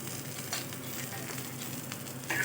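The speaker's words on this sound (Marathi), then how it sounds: "आपल्या मिरच्या थोड्या थोड्या भाजल्या आहेत तर छान असं भाजू द्यायचं आहे" Green chillies and garlic cloves roasting in a pan for Marathwada-style green chilli thecha, giving a soft, steady sizzle with faint crackles and light stirring, close and quiet, with no talking.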